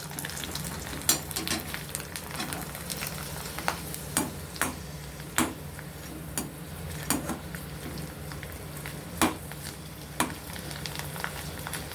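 Rice vadagam frying in plenty of hot oil gives a continuous loud sizzle, with sharp clinks and scrapes of a utensil stirring in the pan at a roughly regular pace.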